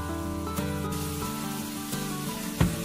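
Chicken breast and onion sizzle steadily in hot oil in a stir-fry pan, a close, even hiss broken by a few soft knocks of a spatula.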